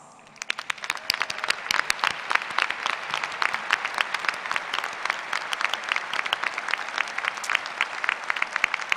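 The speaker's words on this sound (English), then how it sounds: "please stand so we can show our appreciation for mentoring these graduates with a round of applause" A large crowd claps steadily through a university graduate school commencement ceremony, a dense, even roar of many hands applauding without pause, with no voices on top.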